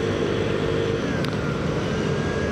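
Engine of a second-hand Vespa scooter idling at a custom motorcycle show, a steady, even drone with a constant low rumble that holds unchanged throughout, no people talking.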